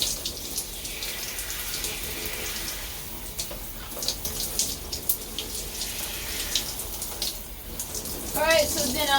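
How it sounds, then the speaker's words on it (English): Water runs steadily from a tap in a shower or bath while hair is rinsed, a constant close hiss with splashy fluctuations throughout. A person speaks faintly now and then under the flow. "I'll just be rinsing my hair out, shampooing it, and then putting a conditioner."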